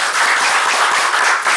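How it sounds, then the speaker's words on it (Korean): A room of attendees claps at a Democratic Party joint press conference marking the leadership's first anniversary in office. The applause is loud, close, dense and continuous throughout. "여기 계신 모든 분들을 위한 감사와 응원의 마음으로 함께 박수를 함께 했으면 좋겠습니다"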